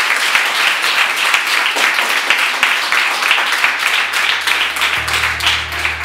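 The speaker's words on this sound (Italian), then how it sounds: "Un applauso per Sara Morotti." An audience applauds a young swimmer at a swimming pool event in Lombardy, Italy, with dense, steady clapping sustained loudly for about six seconds and a low hum building near the end.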